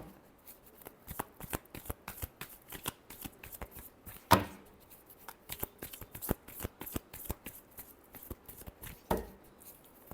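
Tarot cards are shuffled close by in quick bursts of crisp riffling clicks and slaps, with brief pauses between shuffles and two louder snaps along the way.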